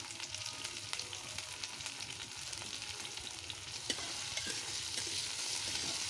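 Onions frying in a little oil, a quiet, steady sizzle with frequent soft stirring scrapes, continuous and unbroken with no voices.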